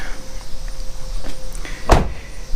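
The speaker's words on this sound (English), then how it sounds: "You can open the door here" A vehicle door fitted with DIY rock sliders opened once, a single sharp unlatching clunk near the end after quiet shuffling movement, close by with no talk.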